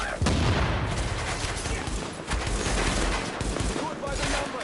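Rapid bursts of gunfire in a Tom Clancy shooter, loud and close, repeated volleys with sharp cracks throughout, mixed with radio-style voice callouts.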